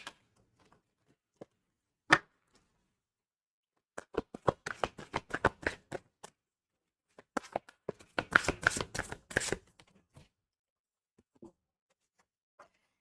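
Cards from the Sword of Light Oracle deck are shuffled by hand close up, with a few isolated taps followed by quick riffling bursts and brief pauses between them.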